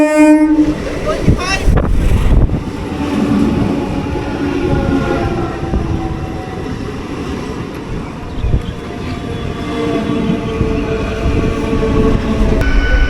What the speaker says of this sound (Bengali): সাতটা আঠাশে ট্রেন ঢুকলো সাতটা সাঁত্রিশে কন্যগড়ে তিন নম্বর প্ল্যাটফর্মে